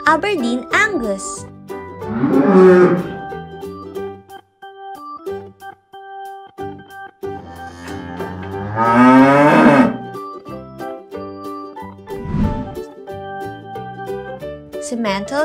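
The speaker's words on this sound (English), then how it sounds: "Aberdeen Angus." Aberdeen Angus cattle low in two long, loud moos a few seconds apart, set over steady background music with a brief spoken name between them.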